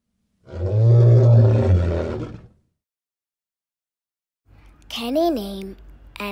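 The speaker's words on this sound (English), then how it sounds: "Which animal roars loudly in the jungle? The answer is lion." A loud, sustained lion roar lasts about two seconds and is followed by silence. A short, higher-pitched animal call comes in near the end.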